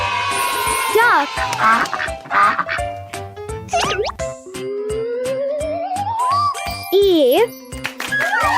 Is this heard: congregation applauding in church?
no